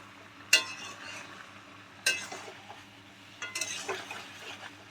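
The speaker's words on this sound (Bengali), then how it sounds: "এবার আমার সবগুলো ভালো করে মিশিয়ে নেব।" Coriander and cumin powder are stirred in a pan for Dhaka-style kosha meat: three sharp spoon knocks against the metal, then a rougher stretch of scraping over a faint sizzle.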